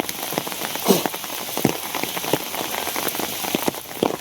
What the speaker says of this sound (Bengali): বৃষ্টির মধ্যে দাঁড়ায় রয়েছি